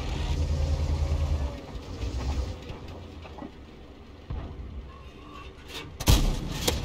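A single deep boom from a Hetzer's 75mm gun in a tank video game strikes near the end, sharp and loud over a low engine rumble.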